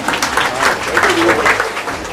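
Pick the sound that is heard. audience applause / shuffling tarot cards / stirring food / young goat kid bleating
audience applause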